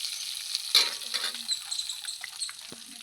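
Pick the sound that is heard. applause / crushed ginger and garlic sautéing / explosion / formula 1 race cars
crushed ginger and garlic sautéing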